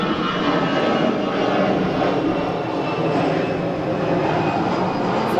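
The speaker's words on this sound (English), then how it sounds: "So, got a bit of aircraft action." An EasyJet passenger jet passes overhead above a football match, giving a steady, broad roar from a distance that holds constant throughout without anyone speaking.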